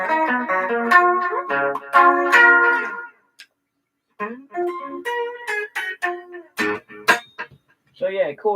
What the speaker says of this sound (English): So yeah, chorus and reverb.